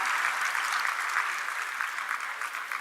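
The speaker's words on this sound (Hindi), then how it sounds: "तालियों से स्वागत करें" Steady, even applause from an audience welcoming an honoree at a Bhopal ceremony where the Chief Minister Shivraj Singh honours UPSC achievers, continuous clapping at moderate distance with no talk over it.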